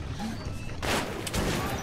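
Gunfire in the video game Metro 2033: two loud, sharp bursts of shots, close and forceful, set over a dim, rumbling game backdrop.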